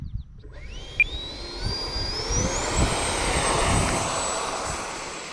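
Electric ducted fan motor of an FMS 80mm Rafale RC jet spooling up outdoors, a rising whine that climbs steadily in pitch and settles into a loud sustained whoosh, close by.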